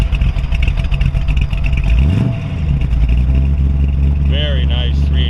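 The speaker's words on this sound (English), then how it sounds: "Go ahead and fire it up." A 1933 Ford Roadster cabriolet with a 383 stroker V8, cold, starting up behind the car: the starter cranks, then the engine catches into a loud, rumbling idle, with a brief rev and some clatter near the end.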